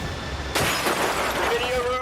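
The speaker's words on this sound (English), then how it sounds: "A window shatters in Bill's home office." A window shatters inside a home office as Hurricane Andrew's eyewall strikes Homestead, a sudden loud crash of breaking glass bursting over steady roaring wind and continuing as a noisy rush of debris.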